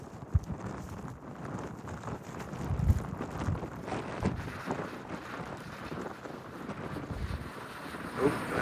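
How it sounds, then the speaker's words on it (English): Gusty wind buffeting the microphone outdoors on a farm field, a rough, fluctuating rumble with irregular bumps and no talking. "It's a bit windy."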